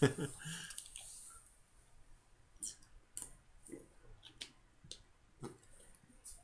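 Pokemon trading cards being shuffled at a table during a Garchomp versus Greninja BREAK deck match, soft irregular clicks and flicks of card edges, quiet and close, with scattered taps between them.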